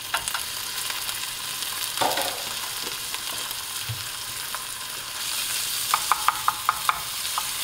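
Minced garlic added to cooked-down onions frying in a pan for smoked tuna dip, a steady broad sizzle with occasional scraping stirs and a quick run of light clicks near the end.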